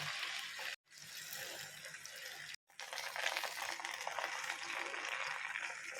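Gongura leaves cooking in oil with green chillies and garlic give a steady, soft, broad hiss like rushing water, broken twice by brief silent cuts.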